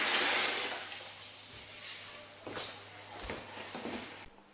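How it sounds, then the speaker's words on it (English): Cold water pours from a vessel into a dissolved sugar mixture for homemade elderflower champagne, a close, steady gushing splash that starts loud and gradually tapers with a few surges, no voices over it. "we're going to add another 8 pints of cold water"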